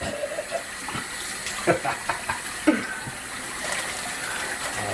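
Tap water runs steadily into a sink while raw chicken is rinsed under it, with a few louder splashes and clunks from the pieces being handled, all fairly close.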